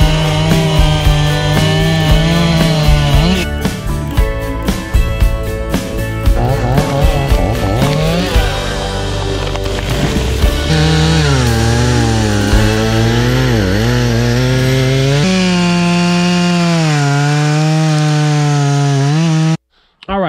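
An Echo CS-490 chainsaw cuts firewood up close, its loud engine revving and settling as the bar bites through the wood for about twenty seconds, with pitch swings and a brief cut-off near the end.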